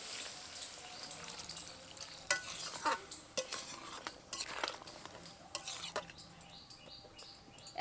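A crab curry with yogurt, tomato and potato gets stirred in a pot. A spoon scrapes and clinks against the metal again and again over a low simmering sizzle, fairly quiet and close.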